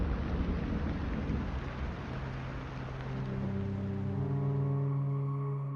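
Heavy rain pours down in a steady, dense hiss that slowly thins as low, droning tones rise and hold underneath toward the end; no one speaks.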